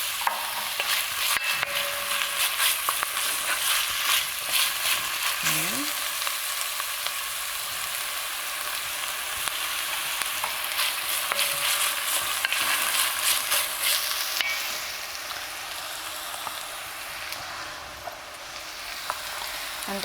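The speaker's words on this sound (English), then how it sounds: "Just be careful that the onion doesn't burn because it gets bitter." Onions fry in a pan with a steady, bright sizzle and are stirred throughout, the scraping of the utensil coming and going over the constant hiss, with no talking.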